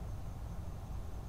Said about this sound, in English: you can hear the crickets outside